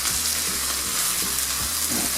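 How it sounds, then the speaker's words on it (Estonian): Onion fries in cooking oil in a pan, a steady close sizzle with crackling hiss and occasional soft stirring scrapes, no talking. "Nii, ja ongi sibul ilusti praetud juba."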